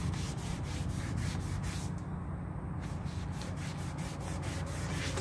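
Clear wax is rubbed onto a rustic wooden chair with a cloth, a close, steady back-and-forth rubbing that keeps a continuous rhythmic texture, with no voices.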